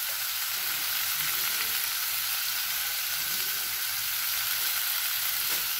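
Potato curry with peas cooking in a wok, a steady, dense frying sizzle that stays loud and even throughout with no talk.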